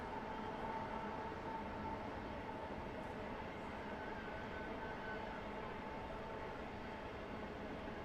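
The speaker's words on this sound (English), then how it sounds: "It's routine to hear the train passing through Abyssinia Stadium." A train passes close to a soccer stadium, a constant, fairly faint rumbling roar that holds evenly throughout with no speech.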